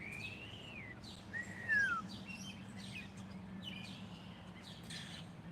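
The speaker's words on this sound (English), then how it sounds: "listen to those crazy bird sounds" Wild birds call outdoors near a house, with a few rising and falling whistled notes and scattered chirps over a steady low background hum; moderately close, no talk.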